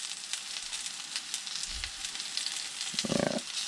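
Venison browning in a pan whose bottom was sanded smooth, giving a steady close sizzle and crackle of frying meat with a brief low thump and a stir-like scrape near the end.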